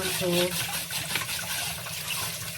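Steady running tap water while produce is washed for slow juicing, a continuous splashing flow with someone talking over it.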